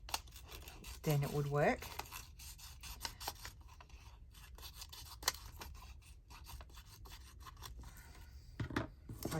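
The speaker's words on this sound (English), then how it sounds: "just sort of cut around it, fussy cut it out" Scissors fussy cutting around paper ephemera in a craft session, heard as close, repeated snipping and rustling of paper, with a person talking briefly.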